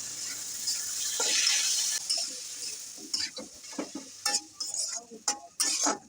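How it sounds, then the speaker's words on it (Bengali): A spoon stirs chopped bilimbi through cooked spices in a pan, with a scraping, clattering rhythm of short strokes and bursts over a soft background sizzle, close and fairly loud. "বিলুমগুলো মশলার সাথে মিশিয়ে নিব নাড়িয়ে"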